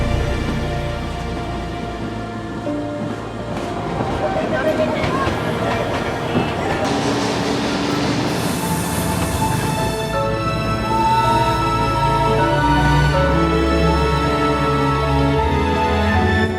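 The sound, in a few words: Darjeeling toy train running through the streets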